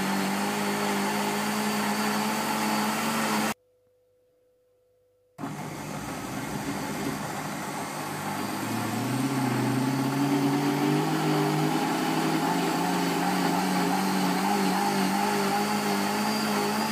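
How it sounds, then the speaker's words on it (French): A soup maker blends soup with added broth, giving a steady, loud motor drone that cuts out for a couple of seconds, then resumes and grows slightly heavier. "Et là, il va se remettre à mixer dans pas longtemps."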